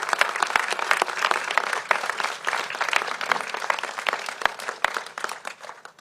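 An audience at a San Francisco event on antisemitism applauds a senator, with crisp individual claps clearly audible in a lively, uneven burst that gradually thins out.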